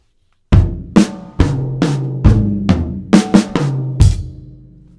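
A slow drum set fill of about nine loud, distinct hits with tonal drum thuds and ringing decays, unevenly spaced, closing on a bright cymbal-like crash, with no talking.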